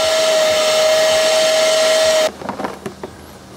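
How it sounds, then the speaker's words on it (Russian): A Hoover CleanSlate carpet and upholstery cleaner running with a loud, steady whining hiss that cuts off abruptly, leaving a few soft clicks and rustles. "Подходит и для химчистки салона автомобиля, он же и как пылесос, и как и мойка, все одновременно можно им делать."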